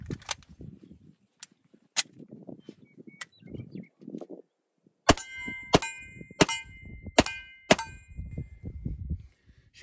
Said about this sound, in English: So let's shoot both of them at the customary steel 15 yards away, and let's see how they shoot. We'll shoot the P38 first.